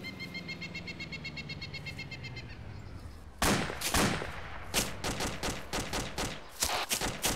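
Rapid bursts of gunfire in the video game ArmA 2 crackle loudly in sharp clusters, following a steadier rhythmic mechanical hum with faint chirping tones.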